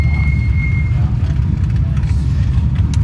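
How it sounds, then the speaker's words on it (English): Race cars running during qualifying at the 2022 TDK Big Sky 200 in Broadview, Montana give off a loud, steady low engine rumble nearby, with faint voices in the background. "These cars are a little bit louder."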